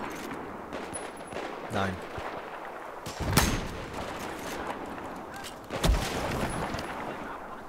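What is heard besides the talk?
gunfire in the video game Battlefield 4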